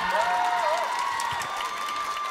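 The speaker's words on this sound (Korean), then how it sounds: "다시 한번 뜨거운 박수 부탁드립니다." Applause and light cheering from a studio audience on a Korean idol survival show, heard under a sustained tonal music bed that fades slightly toward the end.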